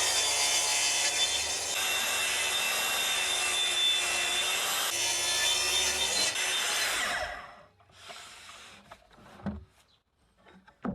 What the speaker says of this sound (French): Dans un panneau de contreplaqué de 30 mm, je coupe une bande de 75 cm de large